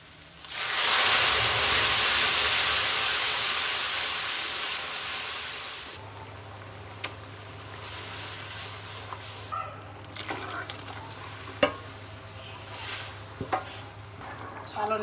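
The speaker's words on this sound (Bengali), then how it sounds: "এবার আমি ডালটা ঢেলে দেব।" Lentil dal is poured into a hot pan, giving a loud rushing hiss and sizzle for several seconds, then a quieter simmering bubble with occasional clinks.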